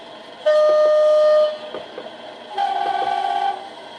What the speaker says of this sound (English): when you do switch direction you get AWS and the air releasing from, there you go, and there's the air from the brakes